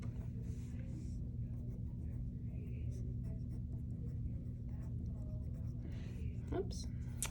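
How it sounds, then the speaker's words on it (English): A pen writes a name and class code on paper, quiet scratchy strokes coming in short bursts over a low background hum, with soft talking mixed in. "The first thing I'm going to do is write my name and class code on it."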